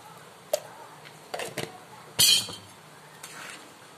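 A spoon stirs sago khichdi in a cooking pot, making a few sharp metallic clinks and scrapes spaced over several seconds against a quiet kitchen background.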